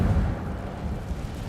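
A fire spell bursts out in Hogwarts Legacy, a loud, low rumbling whoosh of flame that roars steadily for about a second and a half without any voices.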